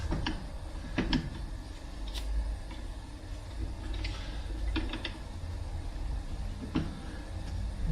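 On a BMC A-Series engine, cylinder head nuts are threaded onto the studs by hand, giving faint, sparse metallic clicks and light taps at irregular intervals over a quiet background.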